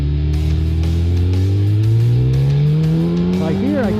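Sportbike engine droning steadily at speed on an expressway, pitch slowly climbing with RPM, overlaid by loud broadband wind rush against the helmet; a voice talks faintly underneath.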